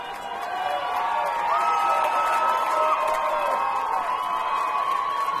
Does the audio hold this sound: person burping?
no